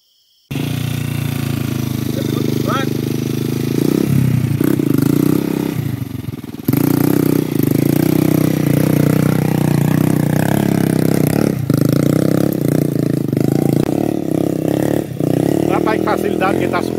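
A motorcycle engine labours on a steep forest trail, droning loud and close with uneven revving and surges as it struggles uphill, while clattering and scraping sounds and voices come and go throughout.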